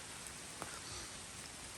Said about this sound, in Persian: بازم داره بارون میاد.